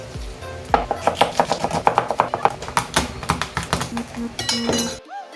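A knife chops an onion on a cutting board in a home kitchen. The rapid, steady taps are close and crisp, and a voice is briefly heard near the end.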